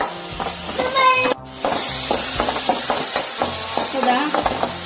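Food is stirred in a pan, the spoon scraping and tapping in an uneven rhythm over a low sizzle, with one abrupt gap before the stirring resumes, close and fairly loud.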